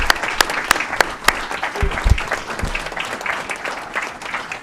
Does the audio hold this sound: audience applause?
yes